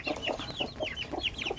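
Baby chicks kept in a brooder without a heat bulb give a rapid run of high, rising peeps, close and continuous, with soft clucking tones underneath.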